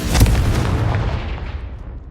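A Confringo fire spell explodes in Hogwarts Legacy with a loud, booming blast that rolls off into a fading rumble over about two seconds.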